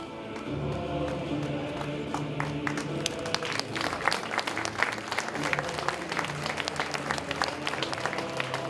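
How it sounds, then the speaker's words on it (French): Applause from an audience at a stage contest for a young girl, many hands clapping in a steady, fairly distant patter with faint tonal background sound underneath. "elle mérite de gros applaudissements"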